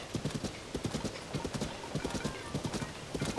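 Horse hooves clip-clop at a steady galloping rhythm in Tears of the Kingdom, sharp repeated thuds close and clear, grouped in quick bursts throughout with soft background ambience.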